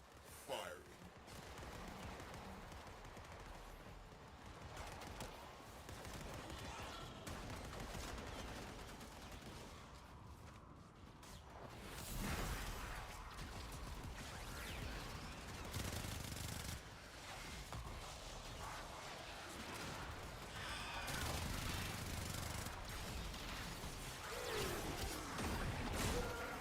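Torpedoes and guns fire from the Railjack in Warframe: a dense, continuous barrage of rapid blasts and crashing impacts, loud and sustained throughout, with occasional louder bursts and talk mixed in.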